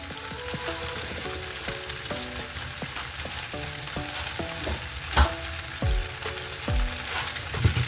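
Peppers, onions, scallions and thyme frying in a pan for a plant-based crumbles and veggies run-down, with a steady close sizzle, a few clanks of a spoon against the pan and a repeating tonal chime in the background.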